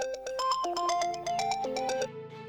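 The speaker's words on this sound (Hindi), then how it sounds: "किसका फोन आ रहा है?" A melodic mobile phone ringtone plays a quick, bright repeating tune for about two seconds, clear and close, then cuts off.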